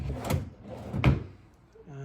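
Hotel room drawers in a Las Vegas hotel being pulled open and pushed shut, two quick wooden slides and knocks close by in a quiet room, followed by a faint tonal hum.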